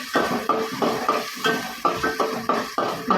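Small onions sizzle in a pan for a Tamil fish curry while a spoon stirs them, scraping the metal in a regular rhythm of strokes over a constant crackling fry.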